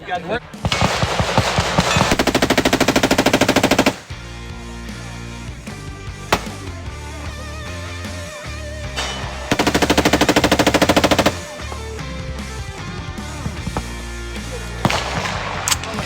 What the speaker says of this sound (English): Pick it back up and just keep shooting.